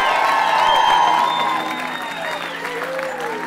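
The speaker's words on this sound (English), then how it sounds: "Big round of applause." Wedding guests at a Sydney reception applaud the bride and groom with steady close clapping, cheers and whoops, the crowd noise easing slightly toward the end.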